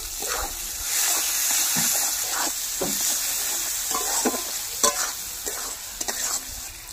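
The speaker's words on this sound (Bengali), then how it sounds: "দিয়ে দিচ্ছি অল্প একটু চিনি, আবার একটু নেড়ে চেড়ে নেব" A spoon stirs potato and soybean curry in a pan after sugar, rice-melon seed and cashew paste go in, scraping and clacking in irregular strokes over a steady close sizzle.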